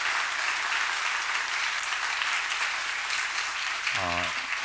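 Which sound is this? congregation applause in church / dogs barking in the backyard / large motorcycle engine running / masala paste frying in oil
congregation applause in church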